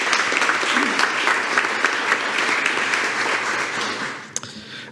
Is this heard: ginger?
no